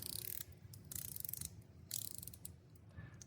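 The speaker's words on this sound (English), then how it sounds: "I love the rotating bezel." Rotating bezel on a chronograph wristwatch being turned, rapid runs of fine ratcheting clicks close up, coming in several short bursts separated by brief pauses.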